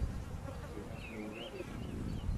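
Honeybees swarm over open beehive frames on a warm spring day, giving a soft, continuous buzzing hum with shifting pitch, close but quiet.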